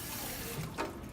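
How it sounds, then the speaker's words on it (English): A ceramic butter dish with clear glaze is rinsed quickly under running tap water, giving a faint, brief splash and trickle of flowing water. "So I'm just gonna quickly put that underneath the water,"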